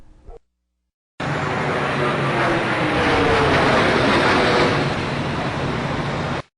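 Aircraft flying overhead at roughly 1,000 feet, from footage of the September 11 attacks, a loud steady broadband roar that starts abruptly after a short silence and holds for about five seconds before cutting off.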